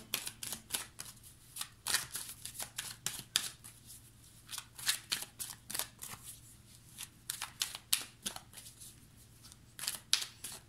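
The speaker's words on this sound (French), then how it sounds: "On va recouvrir les cartes pour avoir plus d'informations." Tarot cards being shuffled and laid out, with rapid riffling bursts and crisp slaps of cards against a surface, repeated in quick irregular clusters close up over a low steady hum.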